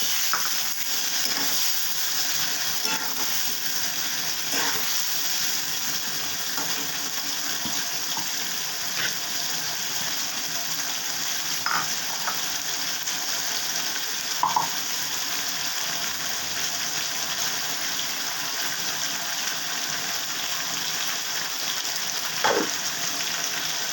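Pointed gourd (potol) fries in oil in a pan for sorshey potol, a steady loud hiss and sizzle with occasional faint clinks and stirring scrapes throughout, no talking.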